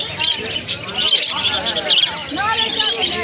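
A dense, continuous chorus of budgerigars chirps close by at a crowded Naihati bird market. People talk quietly underneath.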